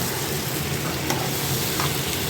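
Spice masala sautéing in hot oil for malai chicken, a steady close sizzle with soft stirring scrapes throughout, no voices.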